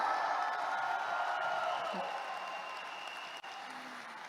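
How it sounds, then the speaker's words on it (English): A seminar audience claps together in a hall, a steady, moderately loud wash of applause that holds for several seconds and then tapers slightly toward the end. "Can we all give ourselves a round of applause today"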